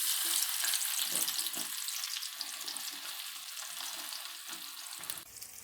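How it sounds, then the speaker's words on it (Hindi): Finely chopped onions fry over high heat in oil until brown for a chicken korma, a loud, continuous crackling sizzle up close with occasional stirring scrapes, easing slightly toward the end. "प्याज को हम ब्राउन होने तक फ्राई करेंगे।"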